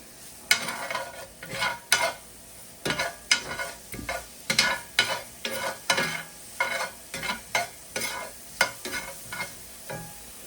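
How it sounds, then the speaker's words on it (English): Ground meat being stirred in a hot frying pan for a home tailgate meal: a steady series of scraping, sizzling stirs in a regular rhythm, close and clear, with no talking. "Stir this up here, turn this back on, and then we'll add our meat."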